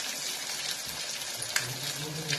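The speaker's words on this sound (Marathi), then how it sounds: "हे तळून घेऊया आपण." Vegetable mix tikki frying in hot oil, a steady close sizzle and crackle running through the whole stretch with a couple of small pops, no talking.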